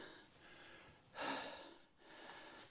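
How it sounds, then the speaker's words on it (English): A loud, close breath bursts out in a sharp gasp, then quieter heavy breaths rise and fall, with no talking. "Heavy breathing today."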